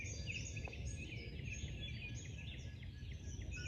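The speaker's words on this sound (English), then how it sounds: "Can hear all the birds." Birds sing and chirp around a bikepacking campsite with a tarp shelter at dawn, a steady chorus of small calls over continuous low outdoor rumble, fairly faint and distant, with no talking.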